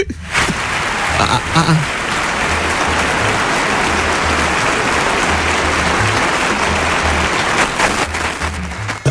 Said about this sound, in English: You were clapping for them